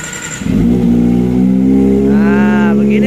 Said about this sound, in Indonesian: suaranya itu tipikalnya knalpotnya ini adem. Kalau digeber lumayan.